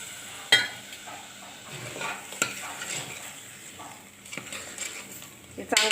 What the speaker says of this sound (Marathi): त्याच्यामध्ये बटाटे सोडू आपण.